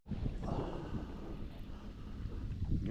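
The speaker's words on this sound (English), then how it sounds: "Wind's blowing into this spot over here" Wind blowing across a clear-water lake in upstate New York, a steady low roar buffeting the microphone throughout with no distinct events.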